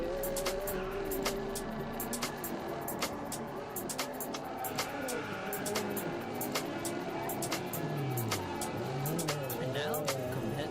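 Game engine sound of a C7 Corvette ZR1 in Test Drive Unlimited Solar Crown, a steady loud engine drone with rising and falling revs, sharp ticking clicks and occasional tyre squeal, with faint voices mixed underneath.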